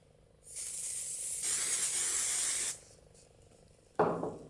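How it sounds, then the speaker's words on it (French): A can of adhesive spray hisses onto interfacing fabric in one sustained burst of about two seconds, nearby and fairly loud, followed after a pause by a short second spritz. "Mettez un coup de spray sur le tissu d'entoilage."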